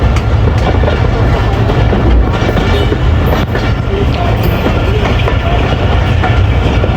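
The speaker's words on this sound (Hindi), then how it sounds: "8 साल बाद एक और ट्रेन इस रूट पे चल पड़ी है।" The Sandal Express passenger train departing Jhang Sadar railway station, a loud continuous rumble with rhythmic clickety-clack of wheels over rail joints, heard close and steady throughout.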